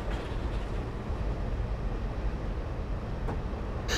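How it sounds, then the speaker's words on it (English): An HST diesel train coasting along at about 28 miles per hour in Train Simulator 2016, a steady low rumble of wheels and engine with faint clicks, continuous and fairly even. "I'm now allowing the train to just coast at around 28 miles per hour"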